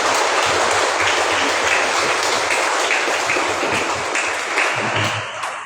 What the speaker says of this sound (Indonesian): Kita tepukkan untuk mereka semua.